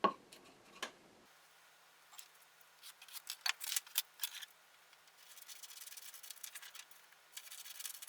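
Quiet close cutting and rubbing sounds of paper being trimmed to size in a woodworking shop, with irregular scratchy strokes and light ticks.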